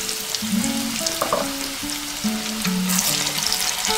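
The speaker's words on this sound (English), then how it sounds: "So now we will be frying these potatoes." Potatoes frying in hot oil for biryani make a steady close sizzle and crackle, with light clinks of stirring and no voices.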